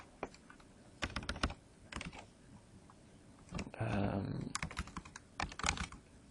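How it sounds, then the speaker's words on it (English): Quiet computer keyboard typing in scattered bursts of quick clicks, with one longer rattling stretch of keystrokes partway through, close and clear with pauses between runs. "I'll maybe type this rather than draw it."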